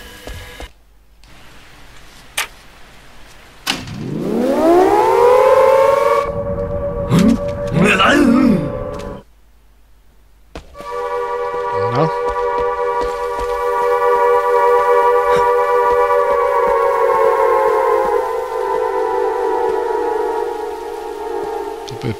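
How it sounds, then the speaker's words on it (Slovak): In the horror game Siren: Blood Curse, a siren is switched on and rises into a loud, sustained wailing drone that holds steady for many seconds after a brief cutoff. "Skúsim zapať tú sirénu."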